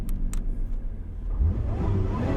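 A 2020 Lotus Evora GT exhaust in sport mode, a deep loud engine rumble with a rising rev toward the end, close and alone without talk.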